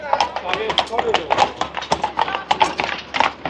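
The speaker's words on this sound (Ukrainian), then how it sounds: "Коні скрізь." Rapid hollow clip-clop of horse hooves on a hard surface in Prague, steady and fairly close, with voices speaking over it.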